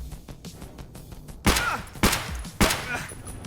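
Three sharp, loud in-game gunshots from .366 rounds striking armor in Escape From Tarkov ring out at uneven intervals, each a sudden crack with a short ringing tail over a low background.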